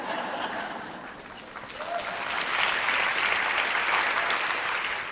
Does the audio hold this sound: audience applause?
yes